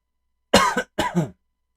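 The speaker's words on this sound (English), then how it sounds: "Pardon my coughing." Two harsh coughs in quick succession, loud and close, with a brief pause between them and silence around.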